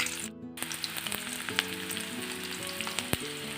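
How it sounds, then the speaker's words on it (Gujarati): Whole garlic cloves and a chopped medium onion sizzling in hot oil, a soft steady crackle with small pops and a few sharp spatters, with no voices. "તેલ આપણું નોર્મલ એવું ગરમ થાય ત્યાર પછી એની અંદર આપણે આખી લસણની કળીઓ ઉમેરી દેવાની છે"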